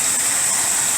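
A carbureted engine with a freshly rebuilt Edelbrock carburetor idles as a steady, loud broadband hiss with a thin high whine on top, unbroken and close throughout the brief stretch.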